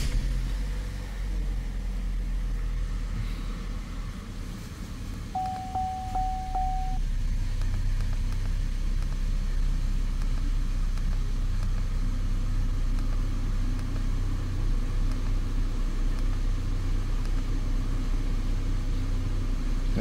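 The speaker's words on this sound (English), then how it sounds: "we are going to start the car for the first time." A Holden Captiva with newly replaced VVT solenoids starts and settles into a steady low idle, its engine drone continuous and close, with a brief electronic beep early on and no talk.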